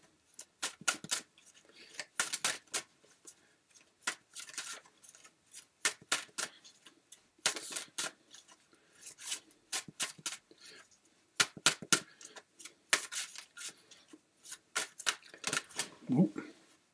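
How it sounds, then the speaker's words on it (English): Bursts of crisp tarot card shuffling, quick riffling flutters in irregular clusters with brief pauses between, close and fairly quiet. "A few more shuffles, see where we're going with this."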